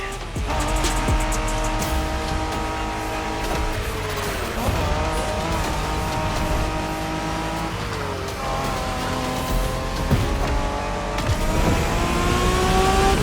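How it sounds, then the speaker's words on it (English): Japanese street racing cars in the video game The Crew Motorfest roar loudly and continuously, with engines revving and tires squealing, over steady background music. "We're going for some proper Japanese street racing."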